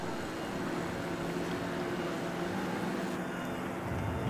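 25hp outboard racing boats on the water at a lake race, a steady droning engine roar heard from a distance, continuous and unbroken throughout.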